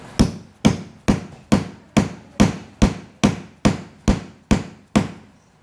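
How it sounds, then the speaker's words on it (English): A hammer strikes a grommet hole cutter set on umbrella fabric over wood, making about twelve loud, sharp, evenly spaced blows, each ringing out briefly before the next. "You go ahead and give it a couple of whacks."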